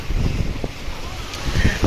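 Strong wind at a beach bar on the shore at Anda, Bohol at night, a loud, continuous blustery roar that buffets the microphone throughout the short moment, with no speech.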